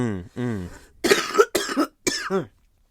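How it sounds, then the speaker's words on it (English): A person coughs several times in quick harsh bursts, close and fairly loud, following a brief vocal sound, blamed on dirt in the air. "It's all this dirt in Utopia that's making me cough."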